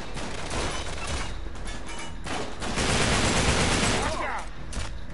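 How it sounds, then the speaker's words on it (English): Sustained machine gun fire in a video game, dense rapid bursts continuing loudly for several seconds, swelling in the middle, with faint talk in the background. "How do you like it when someone shoots you with a machine gun?"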